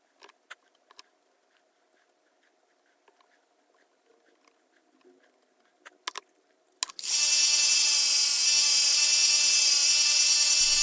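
A 1-inch belt sander smooths the edges of a knife made from a file. It starts abruptly after several seconds of quiet scattered taps and then runs as a loud, steady, continuous grind until the end.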